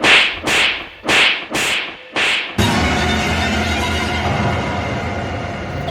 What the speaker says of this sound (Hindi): किसी ने उसे 4-5 थप्पड़ मारे